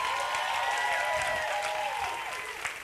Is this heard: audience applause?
yes